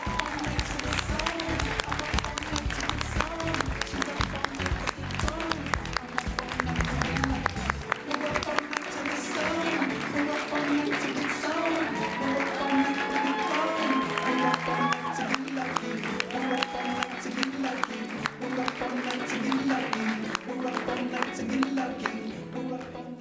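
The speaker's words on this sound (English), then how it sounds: "Can I have an enormous round of applause for Mila SUSU" An audience at a 2015 student course reps awards ceremony applauds, a dense wash of clapping for several seconds that thins out as a voice speaks over the hall.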